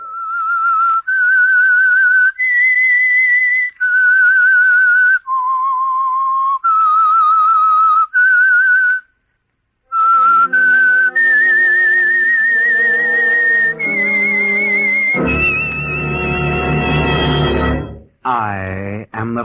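A melodic whistled theme tune from the 1947 radio drama The Whistler rises and falls through a series of held notes, then swells into a full orchestral flourish at the end.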